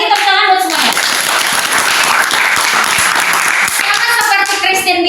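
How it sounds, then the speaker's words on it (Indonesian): Schoolchildren in a history classroom clap their hands together in a loud, dense burst of applause lasting several seconds, with a voice audible at the start and end. "Sekali lagi tepuk tangan buat semuanya."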